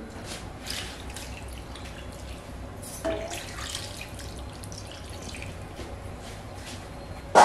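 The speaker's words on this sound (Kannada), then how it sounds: "ಇದಕ್ಕೆ ಸ್ವಲ್ಪ ನೀರು ಹಾಕ್ಬಿಟ್ಟು" Water poured into a pot of chicken with cut green chillies for boiling, a steady, even splashing stream that runs throughout and ends in a brief louder splash.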